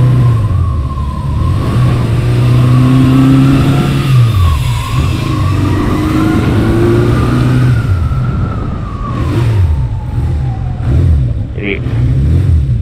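A car engine in busy traffic, revved while braking so it won't stall, with a wavering siren-like tone and engine drone running loud and close throughout, the pitch rising and falling as the revs change.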